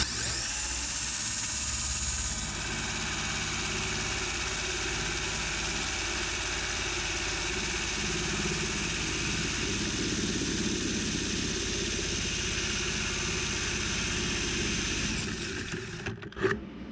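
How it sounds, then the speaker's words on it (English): A small Bosch drill spins a Waterlily turbine on a bench with a continuous high whine and motor hum, running steadily for a long stretch before winding down with a clunk at the end. "So I'm going to try this smaller Bosch drill that I have."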